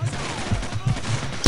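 Rapid automatic gunfire in Call of Duty 4: Modern Warfare, a steady stream of loud, closely spaced shots ending in a sharp burst, with no talk over it.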